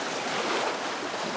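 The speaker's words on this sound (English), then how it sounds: "These waves are coming in with a fair bit of force and smashing up against this rock here." Ocean waves crash forcefully against a coastal rock, a brief, loud rush of churning surf and spray heard close up, without speech.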